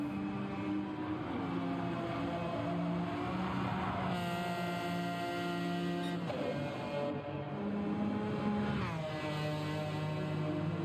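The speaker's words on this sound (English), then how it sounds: "In the McLaren BMW, which sounds awesome." Race car engine of the McLaren BMW in the Gran Turismo 7 video game at a Tokyo South race, a loud continuous high-revving whine rising and falling through gear shifts, with brief tire squeal, alone without talk.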